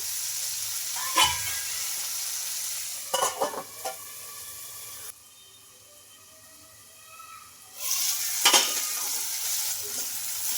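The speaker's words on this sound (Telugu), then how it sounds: "బాగా టమోటాలు అయితే బాగా మగ్గాలండి ఇంకా ఇప్పుడు ఇలా కలిపేసుకొని ఒకసారి మూత అయితే పెట్టేసుకుందాం" Tomatoes cook in a pan, a soft steady sizzle punctuated by a few clattering stirs, then a quieter stretch as the lid goes on, before the sizzling and scraping return, close and without talk.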